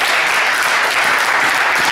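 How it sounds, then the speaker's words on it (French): Church congregation applauding for the Lord, loud dense clapping close by, steady and unbroken throughout. "Est-ce que vous pouvez acclamer pour le Seigneur?"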